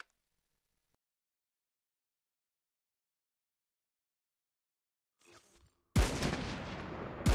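After near silence, a faint burst comes first, then a sudden loud blast of video game gunfire on a mountain peak that echoes and rolls on to the end.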